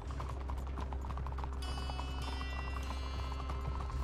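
A ridden horse clip-clops along in Red Dead Redemption 2, even hoofbeats near and steady under a sustained musical score and low drone, no speech.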